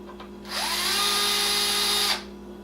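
A power drill runs once for about a second and a half, a steady close whine with a brief spin-up, driving out the screws that join a fan shroud through a hex adapter on an engine. No one speaks over it.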